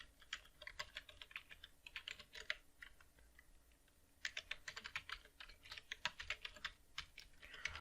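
Fingers type an email address on a computer keyboard, producing quiet, close clicking keystrokes in two quick bursts separated by a brief pause; nobody speaks.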